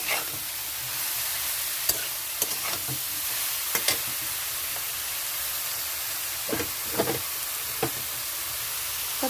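Chopped elephant foot yam stalks frying in a pan: a steady, even sizzle and hiss throughout, broken by scattered sharp clicks and scrapes of stirring, with no one talking.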